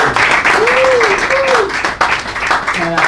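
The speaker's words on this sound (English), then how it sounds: "And I just want to get another round of applause for our sister Nubia Kai." An audience at a book event applauds author Nubia Kai in a short burst of clapping that runs under a speaking voice and a brief musical tone.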